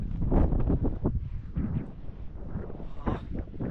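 Wind on a mountain in Laos roars steadily and close, buffeting the microphone in rough, gusty waves with no voices.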